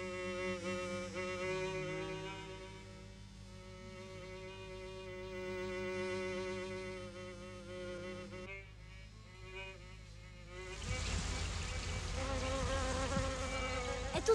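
Flies buzz steadily with a harmonic whine, droning close by, continuous throughout with a brief dip and a louder, noisier stretch toward the end.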